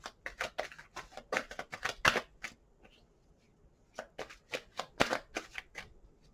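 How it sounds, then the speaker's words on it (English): Tarot cards riffled and shuffled in quick crisp bursts, two flurries separated by a short pause, close up and without talk. "Three shuffles."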